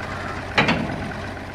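A Zetor tractor idles with a steady low mechanical rumble, and a brief louder clunk breaks through partway before the even hum returns.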